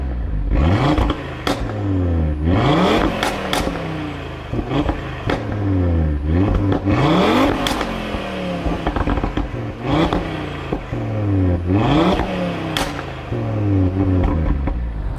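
An Audi RS3 on its stock exhaust revs hard again and again, each sharp rise in pitch followed by a falling drop and crackle, loud and close with no talking.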